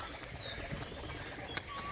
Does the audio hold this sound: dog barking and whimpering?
no